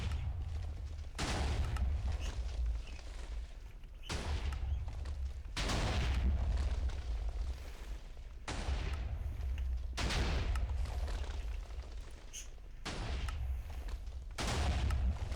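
Repeated booming blasts from a fully automatic TNT cluster cannon in Minecraft 1.5, loud bursts arriving every couple of seconds with rumbling low end between shots.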